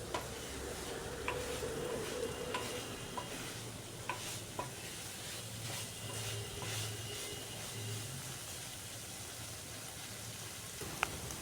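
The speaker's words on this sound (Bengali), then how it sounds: "এটাকে খুব ভালো করে কষিয়ে নিচ্ছি চিকেনটাকে।" Chicken being stir-fried down thoroughly in a pan, with a faint, continuous sizzle and occasional light ticks and clinks of the spatula.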